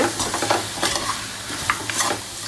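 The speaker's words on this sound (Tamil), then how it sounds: "இப்போ புதினா மல்லி போட்டுக்குங்க. இது நல்லா தொக்கு மாதிரி ஆகணும், அந்த அளவுக்கு நல்லா வதக்குங்க." Mint and coriander leaves sautéed in a pan for Thalappakatti-style mutton biryani, with a steady close sizzle and a few scraping stirs of a spoon against the pan, no talking.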